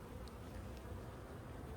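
Honeybees hum around a backyard colony behind a privacy fence, a soft, steady buzzing swarm with a few individual bees passing closer.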